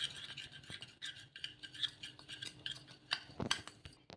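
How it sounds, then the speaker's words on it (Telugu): Maida flour dough being mixed with a little oil for egg rava paratha, giving a run of quiet, irregular scraping and rubbing strokes with small clinks of utensil against the bowl, no voices. "ఇలా నూనె వేసేసుకొని మొత్తం కూడా ఒకసారి కలిపేసుకుందాము"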